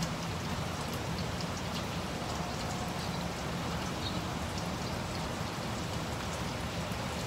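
Steady rain pours down outdoors during a storm, a continuous dense hiss of drops on surfaces that stays even and close from start to finish, with no voices.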